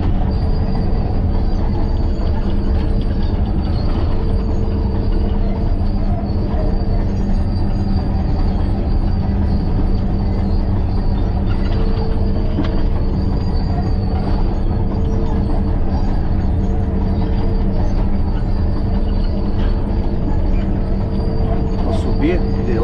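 A Caterpillar D6-N crawler tractor works loose, dry gravel on a track, giving a loud, continuous engine drone with steady track clatter and squeal that runs throughout without a break.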